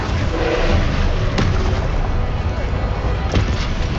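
Confringo blasting spell going off in the Hogwarts Legacy video game, a dense rumbling blast with two sharp bursts standing out over a steady loud roar of game effects.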